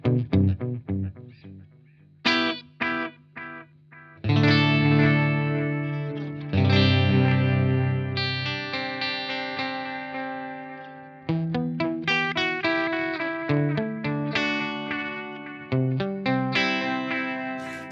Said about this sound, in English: So you can really hear that kind of distortion, that sizzle on there, and that filtering on that delay.